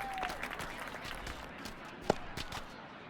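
A virtual stadium crowd in MLB The Show 25 breaks into applause after a base hit, scattered claps and cheering at moderate distance, with a sharp knock partway through.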